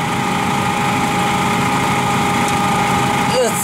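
A Honda D16Y7 engine in a hatchback runs under throttle during an alternator test, a steady, fairly loud hum with a faint whine and a short bump near the end.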